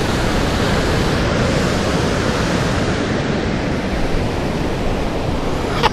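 Sea waves wash onto the shore at Cowden on the Holderness coast as the tide comes in under overcast skies, a loud, dense, unbroken roar of surf with wind buffeting the microphone.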